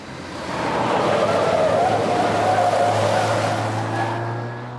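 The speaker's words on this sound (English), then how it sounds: "Rover turned down Pitfall Road," A Rover car driving and skidding on a road during a crime reconstruction, its engine and tyre noise swelling as it approaches, holding steady with a faint squeal, then easing off as it moves away.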